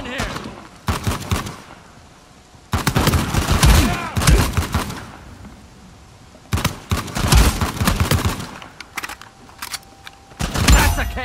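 Bursts of heavy gunfire from the Uncharted 4 survival mode, played solo on Crushing difficulty, come in three loud dense volleys separated by quieter gaps, a short fourth burst at the end, with faint game sounds between.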